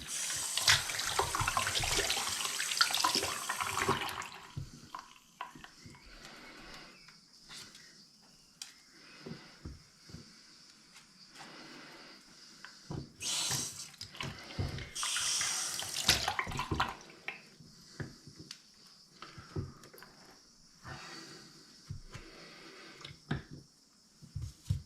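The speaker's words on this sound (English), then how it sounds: "the water that you could hear was the water running into the bath" Tap water running into a bath during a tap washer replacement, a steady splashing flow that starts loud, dips, then surges again with intermittent gushes and drips, heard alone without talk.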